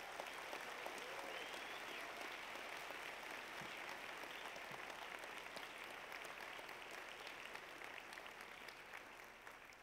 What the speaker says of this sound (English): would you do me a favor and give me a little clap to say thank you to Find Us Faithful?